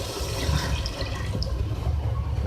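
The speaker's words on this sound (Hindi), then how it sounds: "अब इसको मैं गलने के लिए पानी ऐड कर रही हूँ उसमें" Water poured from a cup into a pan of potatoes set to cook for a rice dish, a steady splashing, trickling stream close by with no talking.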